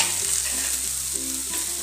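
Pigeon pea thecha gets stirred in a hot pan, a soft scraping swirl over a constant low sizzle, continuous and close with no voices.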